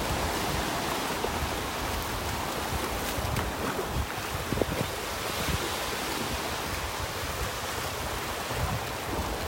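Small ocean waves break over a sandbar on a North Naples, Florida beach, a continuous wash of surf with wind buffeting the microphone and no voices.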